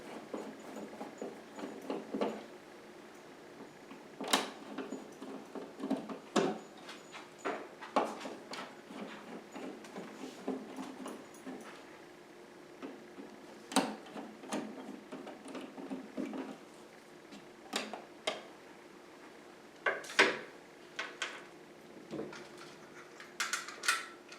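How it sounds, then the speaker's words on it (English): Screws come out of a dimmer switch cover plate and the plate is removed, with faint scattered clicks, taps and small handling noises close by over a quiet room. "the first thing we're going to do is we're going to take out the screws in this cover right here"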